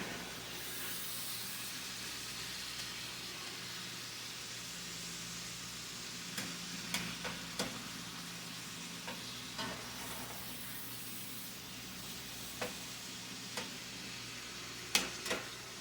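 Ground meat for homemade chili browns in a pan with a steady sizzle and hiss, interrupted by occasional scraping and stirring clicks of a utensil, close and moderately loud.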